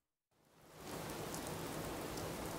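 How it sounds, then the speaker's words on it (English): Steady rain falls in Fallout 4, a dense, even hiss that swells in after a brief silence and holds at a constant level with no talk. "It looks like it's raining here as well."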